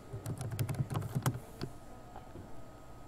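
Quiet computer keyboard typing as a username and password are entered, a quick burst of close keystrokes followed by a few scattered taps, with no talk.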